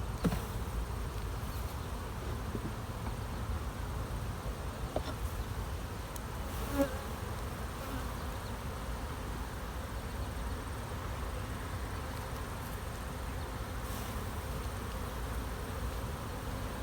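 A dense, steady buzzing of many honeybees being shaken into a box to set up a queen-rearing colony, close and continuous, with occasional faint knocks in the background.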